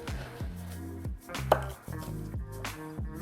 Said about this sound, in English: We're going to cut these in half lengthwise.